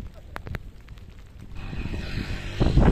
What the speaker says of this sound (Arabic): واحد الريح كاين دابا راه ماشي طيب